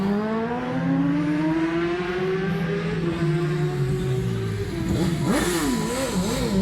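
Isle of Man TT race superbikes scream away from the start line, one engine climbing through its gears and fading while others rev and roar loudly nearby.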